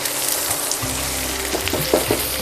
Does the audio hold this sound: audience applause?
no